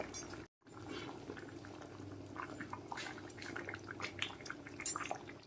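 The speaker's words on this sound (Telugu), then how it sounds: "కూటు మరుగుతోందండి" Kootu curry boils in a pot on the stove with faint, close bubbling and irregular little pops and drips, after a brief silent gap at the start.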